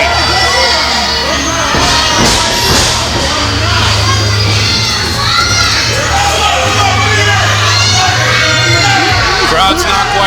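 A wrestling crowd at a PCW Limelight show yells, whoops and shouts in a loud, continuous roar, with voices rising and falling across the arena and a steady low rumble beneath.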